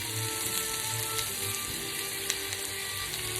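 Onions fry in a pan for spaghetti and turkey meatballs, a dense, steady hiss and crackle close up with a faint hum beneath and a couple of small clicks, no talk.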